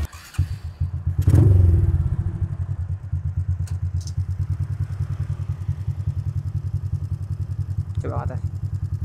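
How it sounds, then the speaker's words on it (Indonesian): A bored-up Honda Supra X 125 motorcycle starts with a sharp rev, then settles into a fast, even, throbbing engine pulse heard close up for the whole ride, with a brief voice near the end. "jadi sekarang kita tuh bakal tes ride dulu nih ya motornya si Pugu."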